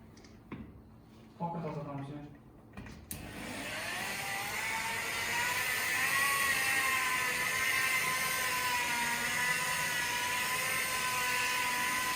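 A rotary polishing machine works a deep scratch on a Toyota Land Cruiser 200, starting after a few seconds of quiet talk and then running as a steady, loud, continuous whir to the end.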